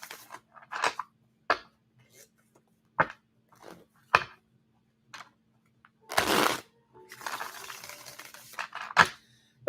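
Tarot cards shuffled in a few short, crisp riffling bursts spread across the clip, with one longer, denser shuffle near the middle and quieter card handling between.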